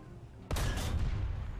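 Gunfire from a vehicle-mounted machine gun in War Thunder, with the Chaffee light tank, starting abruptly after a quiet moment and continuing as a dense, loud burst of rapid shots.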